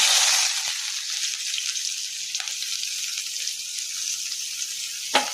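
Chopped onion hitting hot oil in a heated kadai, giving a steady broadband sizzle of frying that runs the whole time, with a few faint clinks and one sharp tap near the end; no voices.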